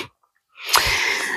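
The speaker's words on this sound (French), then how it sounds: "je crois que je vais éternuer" A single sneeze bursts out loud and close after a brief near-silence, with its airy, noisy tail lingering for most of a second, indoors with windows open.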